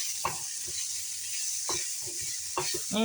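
Garlic sizzles in a lightly oiled frying pan, a steady bright hiss running throughout with a few soft stirring clinks and scrapes against the pan.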